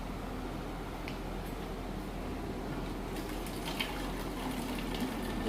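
Water from a household tap runs steadily in a steady, close-up gush that stays even throughout, with a few faint clinks on top and no voices.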